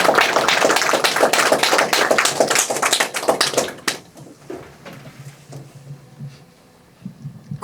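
An audience at a Korean lecture event applauds: dense, loud clapping for about four seconds, then a fast fade to a few scattered claps and room noise.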